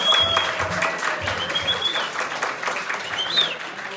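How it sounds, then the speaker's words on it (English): An audience at a comedy show in a theater gives a round of applause, a continuous wash of clapping at even volume with a few whoops and brief voices rising through it. "Give yourself a round of applause"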